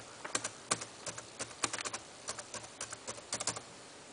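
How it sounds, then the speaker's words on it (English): Close, quiet keyboard typing as an IP address is entered number by number, irregular clusters of crisp key clicks with brief pauses between them and no talking. "just give me a quick second while I type down my IP address"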